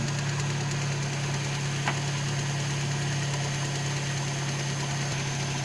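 A faulty canister purge valve in a car engine bay, a steady idling engine hum with a continuous mechanical buzz and faint rapid ticking, close to the microphone, with no one speaking.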